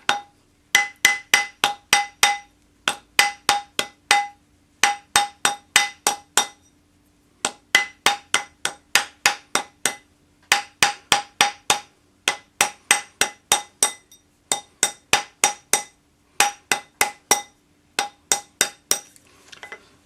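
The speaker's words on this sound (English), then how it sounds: "we'll form this on our ring mandrel using the rawhide hammer" A rawhide hammer forms a metal ring around a ring mandrel in steady bursts of sharp, ringing metallic taps, several blows per group with brief pauses between, close and clear with no talking.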